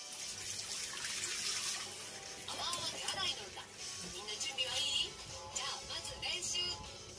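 Tap water runs steadily into a sink during handwashing, a continuous splashing flow with voices talking and singing over it throughout.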